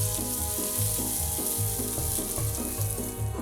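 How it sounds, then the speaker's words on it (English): Onions sweating down in a pan for a Hungarian beef goulash, a soft continuous sizzle beneath a steady repeating music track. "nicely sweating down the onions"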